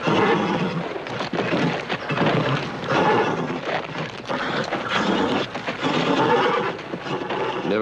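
A horse neighs and whinnies loudly and continuously with restless energy, mixed with faint hoof clatter and a dense, busy background, from a Planet of the Apes TV episode about a horse race.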